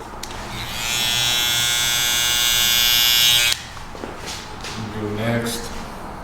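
Electric hair clippers cut a burst fade mohawk, giving a loud, steady close buzz for about three and a half seconds before switching off, followed by quieter handling noises.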